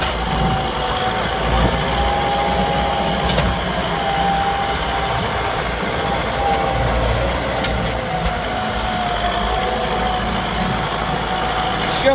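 A 62-horsepower turbocharged diesel engine on an M6240 tractor drones steadily and loudly at close range, a constant rumbling idle with no talk.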